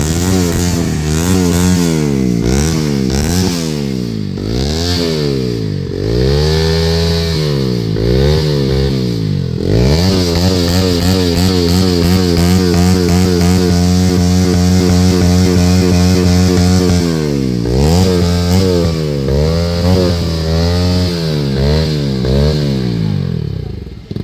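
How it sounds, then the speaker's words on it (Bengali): A motorcycle fitted with a loud aftermarket silencer pipe revs hard and close by, with repeated rising and falling throttle blips and a longer sustained high rev in the middle, all loud and rough against a clattering backdrop. "মোটর বাইকে উচ্চ সাউন্ড যুক্ত সাইলেন্সার পাইপ লাগিয়ে মোটর বাইক চালাচ্ছিল এক তরুণ"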